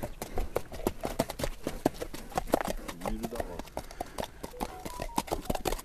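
A large local horse walks slowly, its hooves clip-clopping in a steady, fairly close rhythm while people talk quietly nearby.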